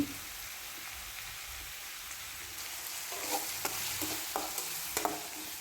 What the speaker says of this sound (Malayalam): സവോള നന്നായി വഴറ്റിയെടുക്കണം കേട്ടോ